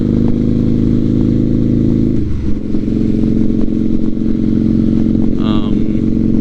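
A Harley-Davidson V-Rod engine idles close by, a loud, steady low throbbing rumble with a brief dip and uneven rhythm midway. A voice speaks over it.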